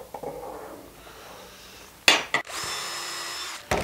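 Power drill with a countersink bit boring into wood, a brief buzzing burst after quiet handling noises, then a short second run, close and clear.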